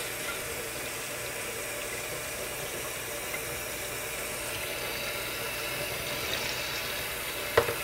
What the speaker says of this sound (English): any kind of pasta, you should always rinse it off first.